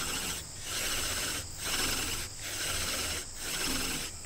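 A bow drill spindle spins against a wooden board in four steady back-and-forth strokes, each a rasping, grinding rub broken by brief pauses as the bow changes direction, close and fairly loud with no voices.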